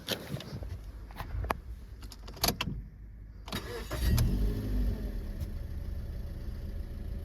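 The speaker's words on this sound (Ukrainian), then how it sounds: "Давайте заведемо автомобіль." A 2012 Mazda 3 starts after a few clicks and a brief crank, then settles into a steady, close idle that continues to the end.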